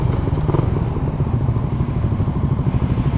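Suzuki Raider 150 Fi motorcycle engine running close up, a steady, loud low rumble with rapid pulsing firing beats and slight swells, like light throttle blips.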